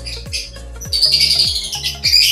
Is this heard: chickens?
yes